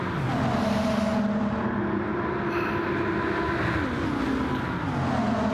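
A Lamborghini race car engine drones steadily during a Gran Turismo 7 Le Mans race, its pitch holding high and then shifting as the gears change, with other cars roaring nearby.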